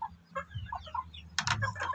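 A pair of young roosters, stags, and other chickens give short clucks and scattered calls in a backyard coop, ending in a louder burst of squawking and scratching; close and fairly quiet.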